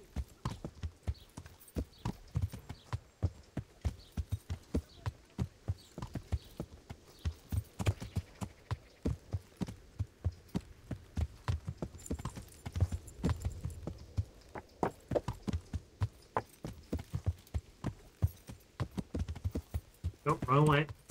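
Hooves of a horse clip-clop in a video game, a rapid, evenly spaced rhythm of sharp hoofbeats running throughout, with a voice talking over them at times.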